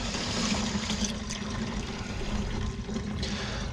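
Coolant is poured into a vacuum filler while working on a Hemi-swapped Durango or Dakota. It makes a continuous, close-up trickling and gurgling liquid sound with a steady low rumble underneath.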